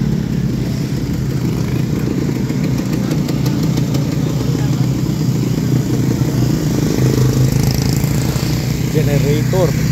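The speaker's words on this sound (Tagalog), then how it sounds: "Generator." A generator engine running steadily in a roadside village setting in Taal, Batangas, a loud continuous low mechanical drone heard close, with people talking over it.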